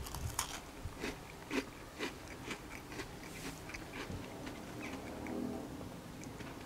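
A crunchy Dutch speculaas spice cookie is chewed close to the mic, giving irregular soft crunches and bites that gradually ease into quieter chewing, with no talking.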